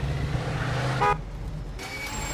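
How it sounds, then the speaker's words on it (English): A car horn in Mafia 2 gives one short, loud honk, followed by low engine idle. "Okay, now honk your horn."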